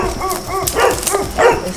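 Three dogs in extremely poor condition bark and yip in quick short bursts nearby, several sharp calls over a couple of seconds with some background noise.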